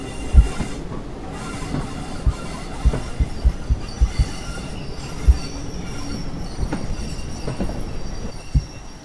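Steam locomotive in a train simulator game, a Stirling Single on the South Devon railway, braking as it pulls into a station, with steady rumbling rail noise and intermittent low clunks of the wheels and cars.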